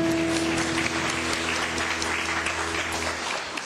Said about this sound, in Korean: 서로 따뜻한 사랑과 격려의 박수를 보내주십시오